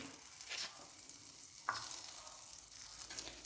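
Butter melting in a clay pot, a faint steady sizzle broken by a few light scrapes and a brief clink, quiet and close.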